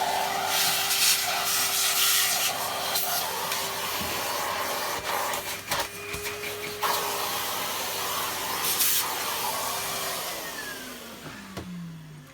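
A bagless Goblin vacuum cleaner runs with a loud, steady whooshing hiss and a constant motor whine, then spins down as its pitch falls near the end.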